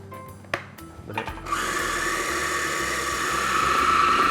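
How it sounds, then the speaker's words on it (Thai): A kitchen blender whirs into a steady, loud motor run after a few light clatters, blending ingredients seasoned with a little sugar and white pepper on a cooking show. "แล้วก็ปิดฝาปั่นได้เลยครับ"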